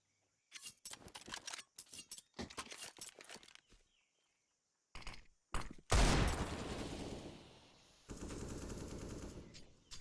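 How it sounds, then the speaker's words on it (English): Gunfire in a Counter-Strike style online match: bursts of rapid shots and single cracks, then a long, loud continuous spray, close and sharp, with brief quiet gaps between exchanges. "Shooting, trying to entice players in"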